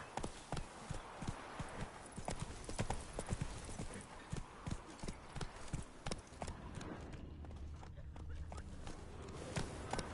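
Horse hooves clip-clopping in The Witcher 3 at a steady walking rhythm, loud and close, with a few brief voice fragments and a low rumble late on.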